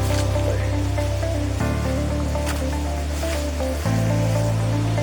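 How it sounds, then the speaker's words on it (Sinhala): A natural stream flows by a river bathing pool in Sri Lanka, a loud, continuous rushing wash of water close by, steady throughout with no talking. "කොහොමද වතුර පාර ගලාගෙන යන්නේ?"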